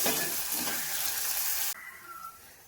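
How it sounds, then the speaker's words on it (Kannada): Chopped onion and garlic frying in a pan, a loud close hiss of sizzling oil that cuts off abruptly to a quieter simmer. "ಇವಾಗ ಈರುಳ್ಳಿ ಮತ್ತು ಬೆಳ್ಳುಳ್ಳಿದು ಹಸಿ ವಾಸನೆ ಹೋಗೋವರೆಗೂ ಒಂದು ಸ್ವಲ್ಪ ಫ್ರೈ ಮಾಡ್ಕೊಳ್ತೀನಿ."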